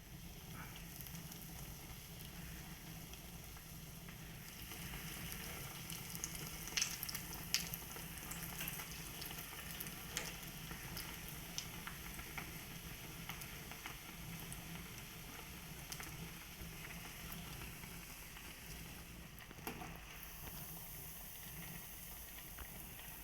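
Bread for French toast fries in a pan with a steady, close sizzle that crackles faintly throughout, with no talking.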